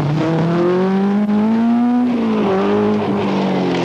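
Triumph TR7 V8 rally car on tarmac at the 1979 Manx Rally, a loud V8 engine note climbing steadily, dipping briefly, then rising again as it passes nearby.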